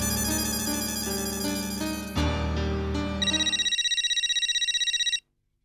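A mobile phone rings with an incoming call, a steady electronic ringtone that switches to a bright, rapidly pulsing tone before cutting off abruptly; close and clear, with no talking.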